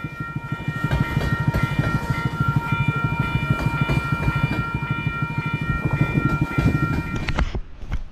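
A train rolls past nearby, its steady rumble and rhythmic wheel clatter going for several seconds before it fades at the end. Faint tonal whistle or horn lines run underneath, and no one speaks.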